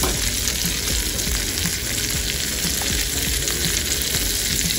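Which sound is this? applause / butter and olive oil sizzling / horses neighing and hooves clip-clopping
butter and olive oil sizzling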